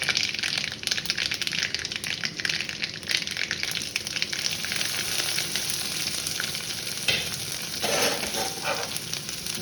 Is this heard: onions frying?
yes